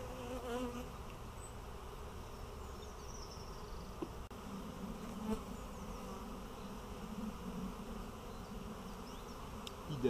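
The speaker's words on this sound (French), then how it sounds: "Quelques abeilles encore." Steady, close buzzing of many honey bees on hive frames, a continuous hum with occasional individual wing whines passing near.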